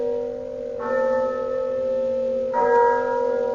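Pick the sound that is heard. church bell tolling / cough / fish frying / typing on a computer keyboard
church bell tolling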